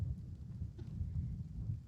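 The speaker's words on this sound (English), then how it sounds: "It's raining." Rain falls in the video game Gray Zone Warfare as a soft, steady low hiss and patter, quiet and continuous with no voices.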